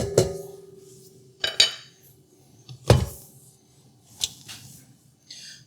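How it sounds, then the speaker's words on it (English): Metal utensil scraping and knocking against a pan while fudge pie filling cooks, several separate clattering strokes spread out with quiet gaps between them. "Scrape it real quick at the bottom."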